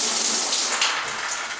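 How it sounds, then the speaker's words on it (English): Water gushes steadily from a shower or tub valve faucet just turned on, a loud, close, continuous hiss and spray with no talk. "I'm going to turn on the water,"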